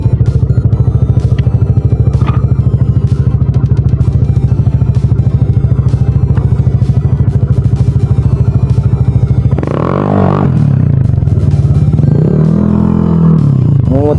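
A motorcycle rides close by with a loud, steady chugging engine note for most of the stretch, then the revs change near the end, rising and falling in a couple of sweeping surges.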